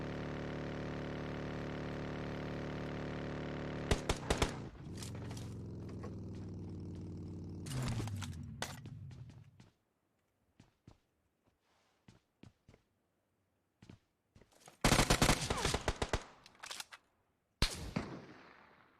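Gunfire in an online shooter video game: a steady engine-like drone gives way to clusters of sharp shots, a quiet stretch, then a dense loud burst of rapid fire near the end, with no talk.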